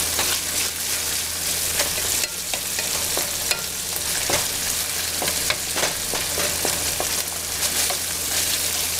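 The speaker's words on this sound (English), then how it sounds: "good sizzle on everything" Anchovies sizzle steadily in hot frying oil, with dense crackling and spitting pops and occasional louder stirring scrapes, close up and without speech.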